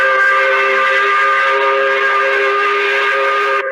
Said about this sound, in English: Let's hit the 5 o'clock whistle button.